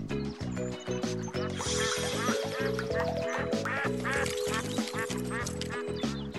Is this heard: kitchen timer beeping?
no